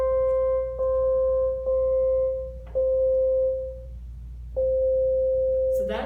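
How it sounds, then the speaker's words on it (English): The ANILOG iOS synth app plays a nearly pure sine-wave tone. The steady, clean note is retriggered several times with short dips and gaps between, followed by a brief noisy burst at the very end. "That's making pretty much a pure sine wave right there."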